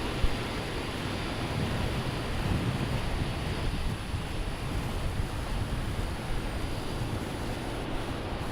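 A passenger jet departing Brisbane Airport bound for Sydney, heard as a steady, broad roar of engine noise with constant low rumble, sustained and fairly distant for the whole stretch, with no talking.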